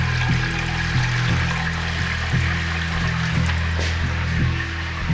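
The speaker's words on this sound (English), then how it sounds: "we fill that up with some soap and water" Water runs steadily from a tap into a sink being filled with soap and water for washing up after cooking quinoa, a continuous close rush with a few faint knocks.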